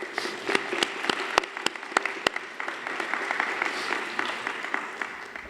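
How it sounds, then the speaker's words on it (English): Audience applause for the trustees at a high school senior recognition ceremony: sustained clapping from a crowd, with a few sharp, distinct claps standing out near the front of the room. "How about a round of applause for the trustees?"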